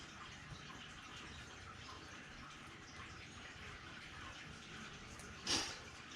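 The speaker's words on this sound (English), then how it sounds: "hearing that water in the background is not me having a pee. It's my swamp cooler" Water from a swamp cooler trickles and hisses faintly and steadily in the background, with a brief louder splash near the end.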